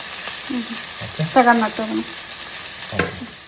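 Eggs fry in a pan with soft, runny yolks, giving a steady, close sizzle throughout, while a voice briefly murmurs over it.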